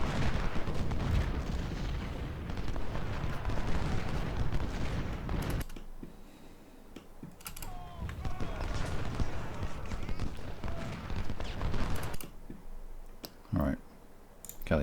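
Unit gunfire and artillery in the Ultimate General Civil War game at Gettysburg crackle in dense volleys with sharp clicks and booms, loud at first, then quieter with scattered shots and sudden bursts.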